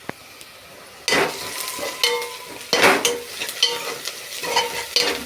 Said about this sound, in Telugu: ఇంకోండి ఉల్లిపాయలు వేగుతున్నాయి.